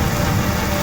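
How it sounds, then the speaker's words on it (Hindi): Heavy rain in Madhya Pradesh pours down as a dense, loud, unbroken hiss in a brief burst. "दूसरी तरफ तेज बारिश"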